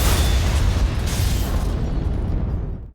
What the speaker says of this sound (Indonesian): Kemudian Lee mengambil alat pemicu ledakan dan menekannya hingga berhasil menghancurkan ruangan